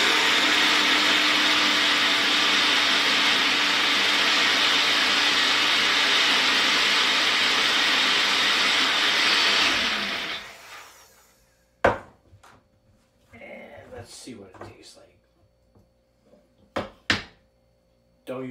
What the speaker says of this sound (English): And all I'm going to do is stick this in my blender here.